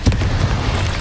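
Confringo, a fiery blast spell cast in the Hogwarts Legacy video game, goes off as one loud booming burst right at the start, then rolls into a rumbling low tail that carries on for the rest of the second.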